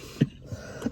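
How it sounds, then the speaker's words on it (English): A woman gives two or three short, soft coughs or throat clears, spaced apart and close to the mic in a quiet room. "You started to cough to make me cough"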